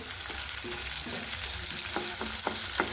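Onion dropped into hot oil in a pan, frying with a continuous soft sizzle and a run of light, quick stirring clicks and scrapes near the end, no talking.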